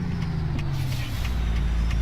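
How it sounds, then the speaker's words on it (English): A heavy truck rolls past in American Truck Simulator, a steady low engine drone holding throughout at moderate level with no talk. "There's that truck again."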